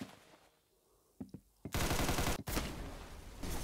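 A minigun fires in a video game after a quiet stretch with a few faint taps. Dense, loud bursts of rapid fire come close up, break off briefly, then resume.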